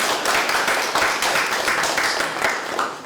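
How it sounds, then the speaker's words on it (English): A conference audience at a textile and resilience event claps for a playground project, a full, even round of applause that holds steady and tapers slightly at the end. "Maybe we can give a round of applause for this playground."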